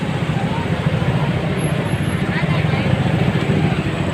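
Steady road traffic in the Philippines, a continuous low rumble of passing cars and engines with a faint hiss, and people talking over it.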